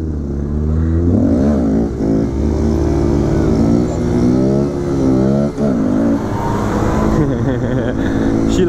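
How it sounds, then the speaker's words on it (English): A motorcycle revs and passes close by, its engine note climbing and falling in several loud surges, with voices around it. "Hey, it's a motorcycle!"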